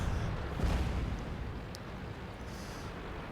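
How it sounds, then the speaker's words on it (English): Artillery shells landing in the tank battle game World of Tanks, a heavy rumbling boom near the start that fades into a sustained low roar of battle noise. "Here comes the artillery."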